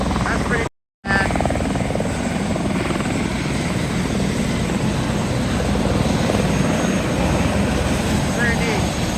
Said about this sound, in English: the type of helicopter you're looking at right now is EC-31